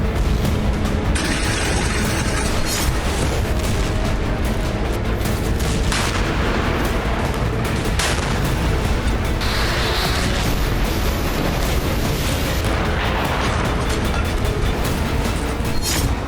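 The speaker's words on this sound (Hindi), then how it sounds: "रूसी फौज को आर्टिलरी से कवर फायर मिल रही है" Artillery fire and explosions from the Russia-Ukraine war: a dense, loud, continuous stretch of booms, bursts and crackling blasts with no pauses, rumbling low throughout.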